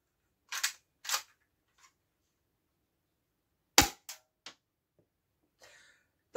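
A cheap BB gun from a mystery box fires several sharp, isolated snaps, two close together, a pause, then a louder shot followed by quicker lighter clicks, each dry and brief against near silence.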